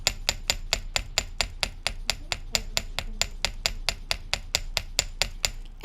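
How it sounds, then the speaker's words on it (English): Steady, evenly spaced metallic taps from a small chasing hammer striking wire while shaping a leaf earring, about three per second, crisp and close, with no voices. "sometimes it'll be easier to use the small chasing hammer from the start"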